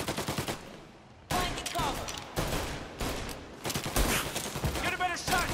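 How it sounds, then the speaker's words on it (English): Gunfire in the video game Mafia: Definitive Edition, rapid bursts of automatic shots in repeated volleys with short gaps between them, loud and close throughout. "The way these guns shoot y'all, you gotta be careful shooting on here."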